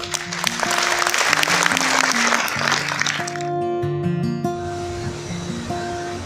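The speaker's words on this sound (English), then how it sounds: "Vous pouvez l'applaudir." Audience applause at the Transition Monaco Forum, an energy and ecological transition conference, loud dense clapping over background music that thins out midway as the music carries on alone.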